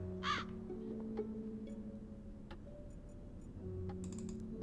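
A crow caws in the Black Mirror III video game: one short harsh call near the start over a low ambient drone, followed by soft computer keyboard or mouse clicks.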